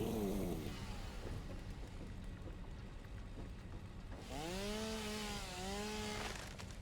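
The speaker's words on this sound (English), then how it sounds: "Right, chainsaw." A chainsaw from the video game Satisfactory drones with a rough buzzing whine, its pitch rising and bending as it revs near the end of the stretch, with no talking.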